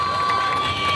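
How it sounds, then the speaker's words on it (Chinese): Crowd at an outdoor street-performer audition in a city park, reacting to a high-difficulty acrobatics act with a steady wash of cheering and shouts over a sustained high tone, loud and continuous for the short moment. "高难度的杂技表演让现场民众惊呼连连"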